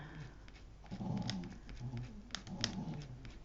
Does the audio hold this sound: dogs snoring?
yes